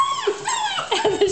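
Puppies yipping and whimpering in a quick, close burst of high, squeaky little barks and whines, fairly loud and with no talking over them.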